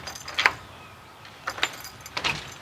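A key working in the lock of a warped front door in a 123-year-old house that no longer latches, three short metallic jangling and scraping bursts separated by quiet gaps.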